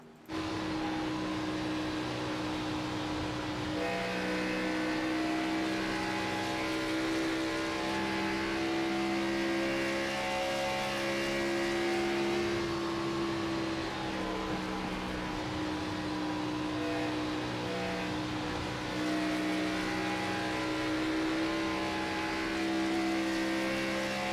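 A race car engine drones steadily throughout an onboard lap of a sim racing game at Atlanta, a continuous loud tone that rises and falls gently with throttle, with no talk over it.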